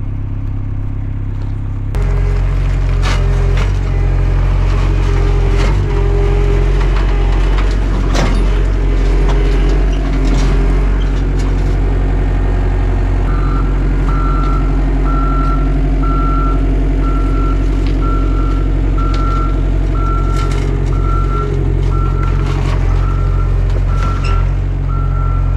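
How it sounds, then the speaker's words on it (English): Skid steer climbing onto an equipment trailer with 4 inch drop axles, its diesel engine droning loud and close amid clanks and knocks, while a steady chain of reversing beeps runs through the second half. "let me just show you what this skid steer looks like driving up on this trailer"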